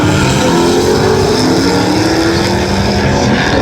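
A 1956 Dodge Suburban drag car's blown engine roars loud and steady at Tulsa Raceway Park, a dense rumble with a rising whine held throughout.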